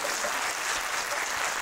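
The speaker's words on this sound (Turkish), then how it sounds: "Alkış." Brief, steady burst of studio audience applause at a mock awards show for the worst Turkish TV series, even clapping with no talk over it.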